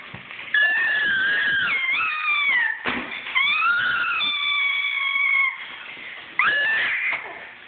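A cat screams and yowls loudly and close by in long, wavering, high-pitched wails with brief pauses between them.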